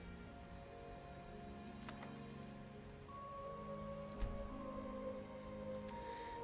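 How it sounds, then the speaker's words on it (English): Steady, faint rain falls during a wild storm in a heavily modded role-playing game, a soft continuous patter with a few quiet tonal game sounds drifting over it and no talking. "A wild storm. So now we're in the rain."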